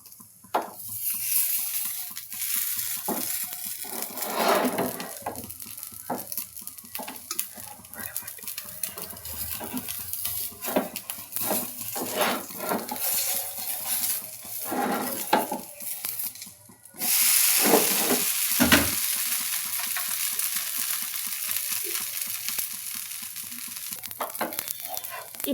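A flipped dosa sizzles steadily on a hot pan, a continuous frying hiss with scattered crackles and a louder burst of sizzle near the end, no voices.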